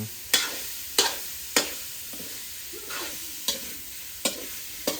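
Straw mushrooms stir-fried with oyster sauce in a hot pan, a steady loud sizzle broken by sharp, evenly spaced scrapes and clanks of a spatula against the pan, close by with no voices.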